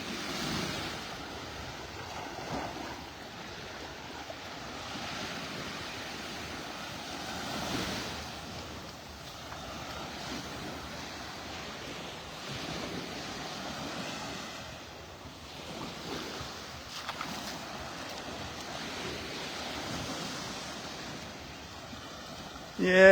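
Ocean surf rolls steadily onto Delnor-Wiggins beach in North Naples, Florida, on a fairly rough day, with a continuous wash of breaking waves and some wind buffeting the microphone, no one speaking.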